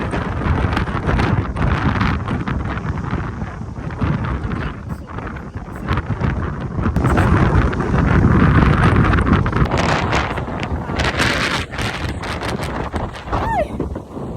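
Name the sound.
strong wind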